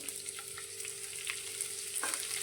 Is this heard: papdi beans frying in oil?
yes